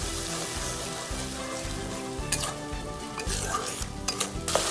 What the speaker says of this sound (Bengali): আবারও ভালো করে নেড়ে নেব।